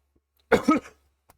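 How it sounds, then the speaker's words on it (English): A single short cough from a person with a lingering cold, close and fairly loud, a quick double burst lasting about half a second, with quiet before and after. "That cough is still there from my cold"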